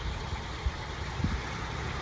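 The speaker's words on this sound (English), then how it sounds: "Paul's gonna go ahead and start it now" A 1938 Dodge truck engine idles steadily with a low, even rumble close by, with a couple of faint low thumps in the middle and no talking.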